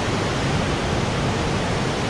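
A mountain stream near the Mount Baker waterfall rushes with a dense, steady roar of flowing water, loud and close and unbroken, with no voices.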